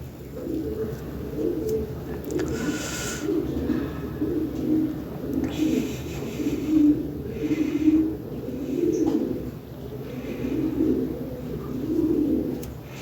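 Lahore Sirazi pigeons cooing in a loft, a steady run of soft, throaty coos repeating in overlapping phrases throughout, close and fairly loud with no talking.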